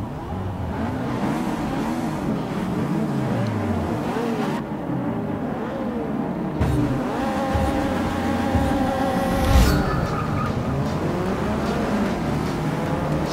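Race cars leave the starting grid in Forza Motorsport 6, a dense, steady roar of engines revving and climbing through gears, loud and continuous throughout, with no talking.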